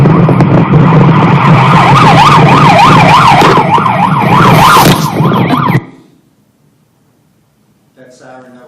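A loud, close police car siren wails and yelps in rapid rising-and-falling sweeps over engine noise, then cuts off abruptly into near silence before faint voices return.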